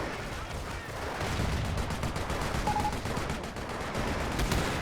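Machine gun fire and gunshots in the Company of Heroes video game, a dense, continuous battlefield clatter of bursts and shots at moderate distance, with faint talk underneath.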